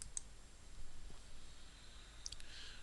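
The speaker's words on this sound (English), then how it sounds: "and then I click on next." A computer mouse gives a few faint, quick clicks at close range in a quiet room, isolated taps spaced apart with no talk.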